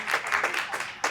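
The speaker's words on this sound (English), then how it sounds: "Let's give it a round of applause." Meeting audience clapping in short bursts, a brief patter of applause from a small group, fairly close, with a sharp final swell.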